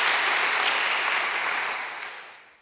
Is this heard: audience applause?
yes